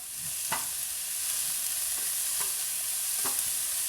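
A spoon stirs bolognese sauce in a pan, giving a few soft scraping strokes at a steady pace over a gentle, constant sizzle, heard close with no one talking.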